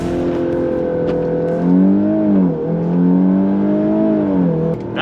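A VW Mk8 Golf R races a Toyota GR Yaris on track, one engine droning loud and close with a steady tone that rises and falls as the revs change through the gears. No one talks.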